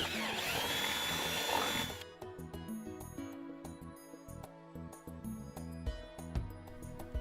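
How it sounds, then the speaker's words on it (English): A power drill with a 5/16 inch bit bores screw holes through an aboveground pool's top ledge for an A-frame ladder, a loud close whine for about two seconds before it stops, followed by quieter knocks and handling noises. "Move ladder over to drill both locations with a"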